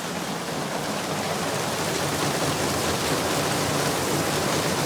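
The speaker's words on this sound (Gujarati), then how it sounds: "મસ્ત વરસાદ આવે છે." Steady rain pours outside during a downpour in Surat, a dense, even hiss that holds constant and fairly loud throughout with no voices.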